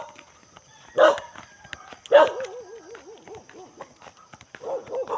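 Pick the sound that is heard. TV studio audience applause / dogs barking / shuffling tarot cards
dogs barking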